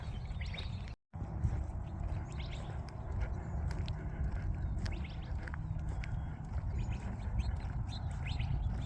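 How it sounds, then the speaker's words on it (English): Birds chirping and tweeting on trails in Taylor Ranch, Albuquerque, over a constant low rumble of wind or traffic, with scattered bright calls throughout and a brief dropout near the start. "The birds are just having a day."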